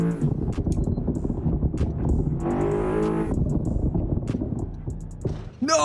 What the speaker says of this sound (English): the car, if you're driving it or not, is so loud. Like, this is interior sound.